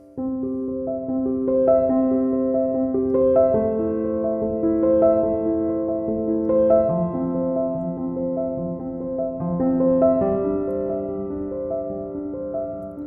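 Piano chords played at a brisk, steady pace, sustained notes overlapping as the harmony shifts, with no talking.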